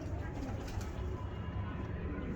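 Desi Faisalabadi pigeons, plain old pale-coloured birds, coo softly and repeatedly in a dense, continuous low murmur that sounds close by and steady, with a faint voice in the background.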